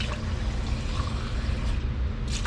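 Cold water pours steadily into a container while bonding adhesive for self-levelling cement is being mixed, giving a continuous close trickling rush that ends abruptly near the finish.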